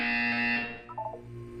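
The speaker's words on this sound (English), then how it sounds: "You will hear a buzzer." A harsh electronic buzzer from the video game Portal 2 blares loudly for about half a second, then fades out and is followed by a short, faint chime-like tone.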